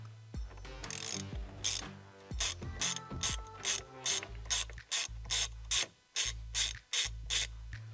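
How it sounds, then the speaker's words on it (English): A ratchet drives a T50 Torx bit to break loose the steering wheel bolt on a 2010-2014 F-150 Raptor, giving crisp bursts of close, rapid clicking with short pauses between strokes. "take a T50 Torx bit, maybe extension, and then your ratchet, and you're going to put it in there and break this bolt loose"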